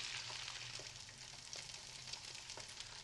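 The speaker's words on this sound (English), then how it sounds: "Looks like a frying pan and some eggs to me." Eggs sizzle in a frying pan with a steady, faint crackling hiss and scattered small pops that run on without a break, with no voices.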